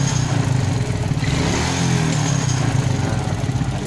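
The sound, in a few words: motorcycle engine backfiring from the carburetor when throttle is released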